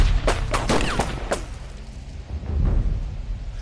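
Gunfire in a Chinese anti-Japanese war drama: a quick burst of several sharp shots early on, then a quieter rumbling background.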